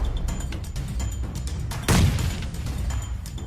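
A grenade goes off in PUBG Mobile gameplay: one short, muffled boom bursts out midway over a quiet background of game sounds.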